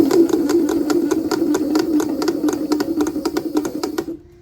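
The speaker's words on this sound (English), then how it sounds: "these pumps are they're forcing gas in and out to pump any liquid through that we need" A steady mechanical pumping drone from gas-driven beer line pumps running on an empty keg, with rapid, regular clicking pulses, continuous and fairly loud before stopping abruptly near the end.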